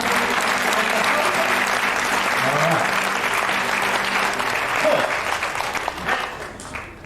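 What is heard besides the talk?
audience applause for the ushers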